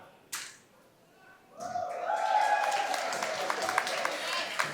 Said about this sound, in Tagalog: Parang kulang ang palakpak ninyo.